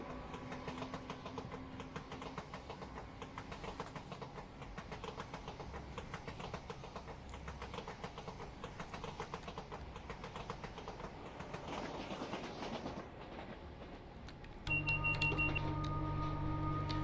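A Class 87 electric locomotive in Train Simulator Classic hums and rumbles steadily as it runs. A sharper, louder tonal drone cuts in near the end, and no one speaks.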